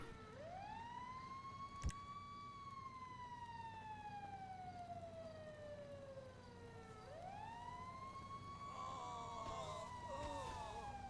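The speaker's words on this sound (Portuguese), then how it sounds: "Bombeiros chegaram ali pra apagar o, o fogo." Fire truck sirens wail in GTA 5, rising and falling in long sweeps with harmonics over a steady traffic rumble, fairly close, with one sharp click near the start and a second siren cycle starting late.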